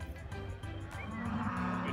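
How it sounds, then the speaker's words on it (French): Cattle out in a pasture, lowing repeatedly as a farmer calls them in, the moos rising and falling one after another at moderate distance with no talk over them. "Comme les vaches sont un peu loin, Vincent les appelle pour nous"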